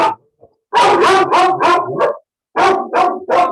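A dog barks loudly and close, a rapid run of sharp barks, a short pause, then several more in quick succession, with no talk over it.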